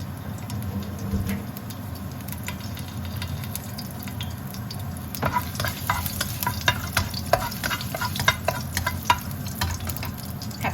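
Garlic frying in a thin, worn Teflon pan gives a steady close sizzle, with sharper scraping stirs and clicks becoming frequent in the second half; no talking.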